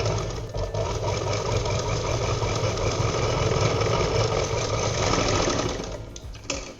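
Domestic sewing machine running steadily while stitching cloth for a simple shoulder bag, a continuous rapid mechanical chatter close by, easing off near the end with a few clicks.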